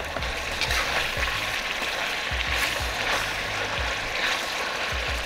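Pieces of kangaroo meat fry in hot oil, a steady, close crackling sizzle that holds evenly throughout with faint low bubbling underneath.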